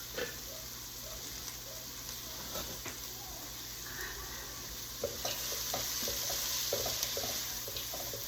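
Onions and garlic fry in a pot over lowered heat, a steady soft sizzle carrying on throughout, with faint scraping and light clinks from stirring near the end.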